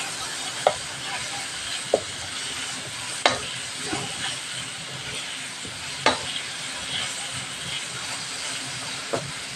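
Onions and green chili sautéing in a pan for a squid dish, a steady soft sizzle and hiss with occasional sharp clicks of a utensil stirring against the pan, close and without talk.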